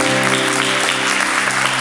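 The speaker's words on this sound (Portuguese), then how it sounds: "Aplauda Jesus com o seu melhor aplauso." A church congregation applauds, a dense, loud and sustained roar of many hands clapping together with a steady tone running underneath.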